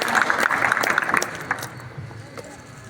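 An audience at an Arya Samaj Republic Day program claps in a burst of applause that fades out after about two seconds, leaving a quiet room.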